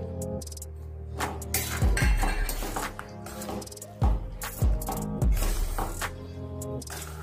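A spoon stirs beetroot halwa with crushed cashews, almonds and raisins in a pan, producing continuous close scraping and clinking against the metal with a few heavier knocks, and a voice speaks over it at times.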